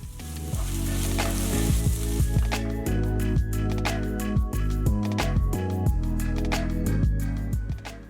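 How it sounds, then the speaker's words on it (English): Soy sauce drizzled around rice sizzles loudly in a hot wok, a bright hissing rush with musical backing and clattering stirring strokes throughout. "you drizzle it around the edge of the rice so that you hear a nice sizzle"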